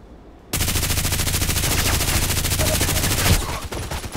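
Automatic gunfire in the video game Contract Wars, a sustained rapid burst of loud, evenly spaced shots lasting nearly three seconds before cutting off.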